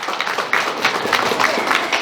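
Audience applause at a Yaycupacuy family celebration, a steady, dense wash of many hands clapping close by for about two seconds without a break.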